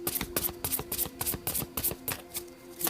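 Tarot cards being shuffled, a rapid series of crisp riffling flicks and taps close by, repeating in quick bursts.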